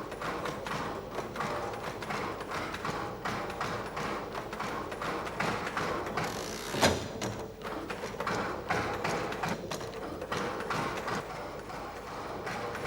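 An electric stereotype machine from the American Printing House, dating from the 1950s, embosses a braille master plate with a steady run of rapid mechanical taps and thumps and one heavier clunk midway.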